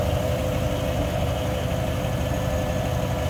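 A 1955 Chevrolet Bel Air two-door hardtop with a four-barrel 265 V8 idles smoothly, a loud, steady low rumble with even pulsing throughout.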